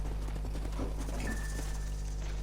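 Horse hooves clip-clopping in Red Dead Redemption, the remastered PS4 release of the Western video game, as horses pull up near an old house; a soft, steady patter of hooves sits under a constant low hum and game ambience.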